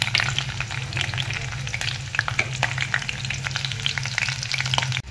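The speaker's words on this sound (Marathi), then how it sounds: "आता मी मिरची तळून घेते।" Green chillies frying in hot oil in a pan after peanuts, for a traditional village-style ambadi bhaji: steady dense sizzle and crackle with frequent small pops and a low hum underneath, continuous and close throughout.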